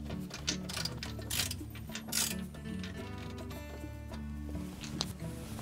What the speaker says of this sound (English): Reinstall the screw that holds those two pieces together.